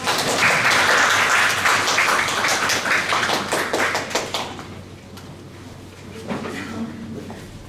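Dense applause from a conference audience welcoming a speaker, loud and steady for several seconds before gradually thinning out toward the end.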